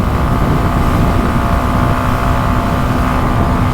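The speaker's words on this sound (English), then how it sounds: "The engine is fairly loud actually, but okay, it's a 125." A 2023 Yamaha XSR 125 motorcycle engine while riding at speed, a loud, steady drone mixed with heavy wind rush throughout, with no talk.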